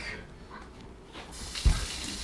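Cold water running from a kitchen sink tap to rinse freshly churned homemade butter, a steady hiss that swells into a louder gush near the end, close by with no talk.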